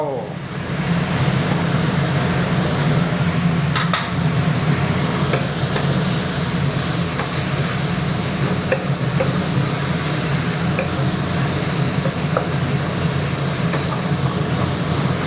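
Squid with Thai basil is stir-fried in a pan, giving a steady, close, loud sizzle broken by quick scraping stirs, with no talking.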